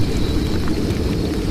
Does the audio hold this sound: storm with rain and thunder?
yes